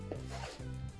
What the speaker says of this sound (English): if I peel this banana